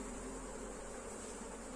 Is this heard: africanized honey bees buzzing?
yes